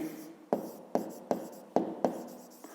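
A pen scratches out a math solution on paper with six crisp, evenly spaced strokes, each a sharp tap followed by a short scrape, close and clear against a quiet background.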